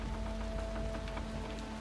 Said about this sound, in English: Oh, now it's starting to rain too.